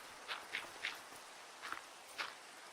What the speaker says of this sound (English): Hearing footsteps.